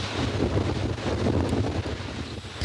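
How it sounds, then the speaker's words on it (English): Strong wind blows across exposed coastal cliffs above a heavy swell, a loud continuous roar buffeting the microphone with gusty rumble and no voices. "I'm gonna have to hide away from the cliffs a wee bit because it's pretty windy out here."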